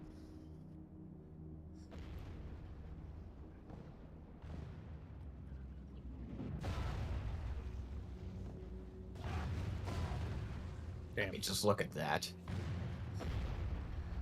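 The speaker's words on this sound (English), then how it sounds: "I'm fucking scared of cannons" Cannon artillery fires in a Total War Medieval 2 battle, with several booming blasts and crashes spread across the scene that grow denser toward the end, while someone talks over them throughout.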